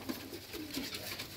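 Pigeons coo softly, low and hollow, in a few short repeated phrases at a home loft where pigeons are kept, heard alone at moderate distance without talk.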